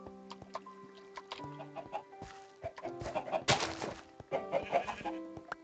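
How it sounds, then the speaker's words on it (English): Chickens in the video game TerraFirmaCraft cluck in short, scattered bursts, several birds overlapping in quick irregular calls, soft and close. "The chickens are eating all the grass."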